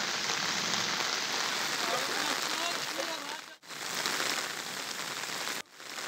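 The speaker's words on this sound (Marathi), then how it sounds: "चांदूर बाजारच्या फुगाव पिंपरीमध्ये मुसळधार पाऊस झालेला आहे" Heavy monsoon rain pours down steadily on a village in Chandur Bazar, Amravati, a dense, loud, even hiss with no voices, briefly dipping twice before resuming.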